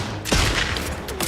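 A burst of sniper gunfire cracks in The Outer Worlds 2 as a short, loud, dense barrage of rapid impacts.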